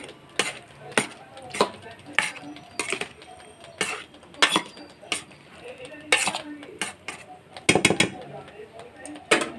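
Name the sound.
stirring garam masala into a pot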